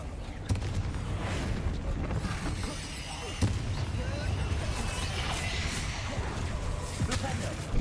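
Booming Confringo explosion spells from the Hogwarts Legacy video game burst repeatedly over a dense, rumbling backdrop of game noise, with a few sharper blasts standing out and a voice calling out spell names.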